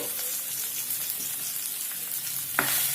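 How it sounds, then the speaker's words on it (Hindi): Carrots tipped into garlic frying to light brown in oil for soya chunk Manchurian set off a steady, close sizzle that runs throughout, with a sharp clatter near the end. "जैसे आपको लगे कि आपका गार्लिक जो है वो लाइट ब्राउन हो गया है तो आप इसमें अपनी कैरेट्स को डालिए।"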